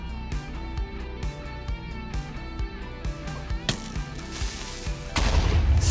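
A creeper explodes in Minecraft among a run of sharp, repeated blasts and gunfire-like cracks, then a loud, broad burst of noise swells near the end.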